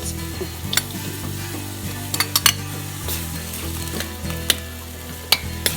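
Mung bean sprouts with ground pork and carrot sizzle steadily in a pan while a spatula stirs and scrapes, sharp clacks of utensil on metal popping out now and then over the continuous frying.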